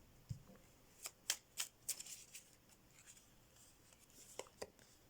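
Tarot cards being shuffled during a reading, a run of crisp riffling flicks and soft slaps clustered near the start and again near the end, fairly quiet and close with no talking.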